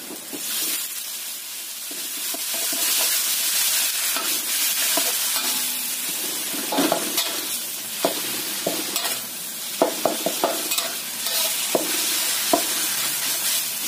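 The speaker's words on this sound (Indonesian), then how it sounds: "Setelah bau wangi, masukkan ayamnya yang sudah kita cincang." Minced chicken stir-fries in a pan with a steady, close hiss and sizzle, with scattered light scraping and tapping from the utensil throughout.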